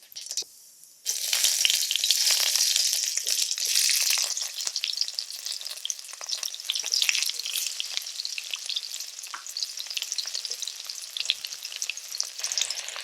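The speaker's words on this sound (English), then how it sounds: "The pot is now hot. I'll add a teaspoon of cumin seeds. Then I'll add the onion." Cumin seeds and onion hit a hot pot with a loud, crackling sizzle that starts abruptly, then settles into a steady frying hiss broken by scraping stirs, close up and with no talk.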